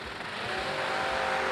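Drag racing cars launching at a hot rod event, a loud, sustained engine roar that builds steadily as the cars pull away, with no pause or break.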